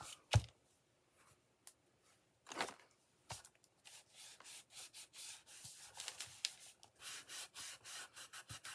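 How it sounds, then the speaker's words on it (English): Cloth rubs and wipes excess wax off a small dollar-store DIY Easter craft piece in a run of soft, close scrubbing strokes, with a few sharper handling knocks near the start. "I'll wipe my hands off, and then we'll wipe the project off."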